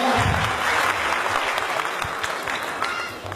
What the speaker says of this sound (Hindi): एक बार जोरदार तालियों से स्वागत किया जाए सर लोग का